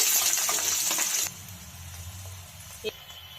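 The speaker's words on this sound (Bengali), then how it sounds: "ফোড়নের মধ্যে আমি পেঁয়াজ কুচানো দিয়ে দেব।" Chopped onion hits hot tempering oil with black mustard seeds and a dried red chilli, a loud broadband sizzle that drops to a softer steady fry after about a second, with one brief clink near the end.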